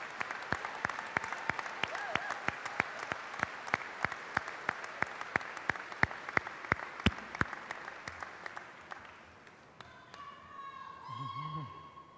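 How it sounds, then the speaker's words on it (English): Audience applause fills a high school graduation ceremony hall, a fairly faint wash of clapping punctuated by sharp, distinct near claps at a steady rhythm, giving way to murmuring voices near the end. "class of 2023, please stand up and give them a round of applause"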